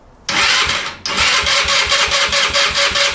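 A stretched Honda Ruckus scooter engine cranking with a loud whirring starter, a brief break, then cranking again in rhythmic pulses, close and loud with no voices over it.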